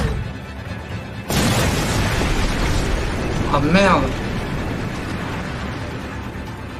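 Explosions in a French-dubbed episode of The Rising of the Shield Hero, a sudden loud blast followed by a sustained rumbling roar with a swelling mid-section, while a voice speaks briefly over it.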